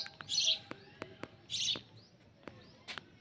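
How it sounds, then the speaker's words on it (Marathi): Sparrows chirp in the quiet morning, with bright bursts of calls and sharp short tweets repeating close by, alone without speech. "चिमण्या किती चिव चिव करायला लागल्यात बघा."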